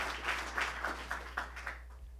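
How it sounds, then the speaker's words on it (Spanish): A church congregation claps for the Lord, quiet, distant applause with a pulsing rhythm of separate bursts over a steady low hum, fading out at the end. "Denle fuerte el aplauso al Señor."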